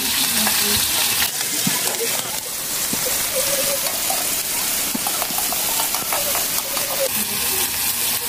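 Garlic and onion sizzle steadily in a frying pan with pork while preparing shrimp bagoong, with scraping stir strokes over a constant loud frying hiss; a voice talks briefly in the background.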